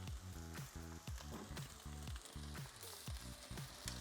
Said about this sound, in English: I'm gonna flip this bacon first here